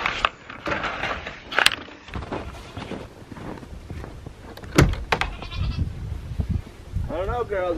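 Goats bleating outdoors on a snowy winter day, short bleats in scattered bursts mixed with a person talking and crunching handling noises nearby.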